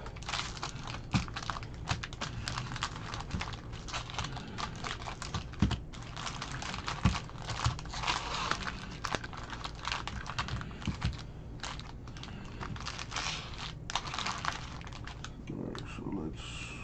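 Baseball card packs from a 2020 Topps Update Series jumbo box being shuffled by hand, a steady close run of crisp crinkling, clicking foil-wrapper rustle lasting throughout with no pauses.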